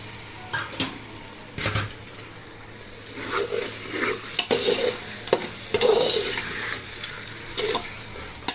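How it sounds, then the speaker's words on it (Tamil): Tomatoes sauté with ginger-garlic paste for a seeraga samba chicken biryani. A soft continuous sizzle runs under repeated scraping and stirring knocks against the pan, with no talking. "தக்காளி போட்டு கொஞ்சம் நல்லா சுருண்டு வர மாதிரி வதங்கணும்"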